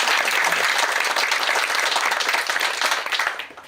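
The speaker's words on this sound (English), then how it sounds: "Let's give Sam a round of applause." A crowd at a groundbreaking ceremony in Sandstone applauds, loud and dense clapping from many hands that holds steady and then tapers off at the end.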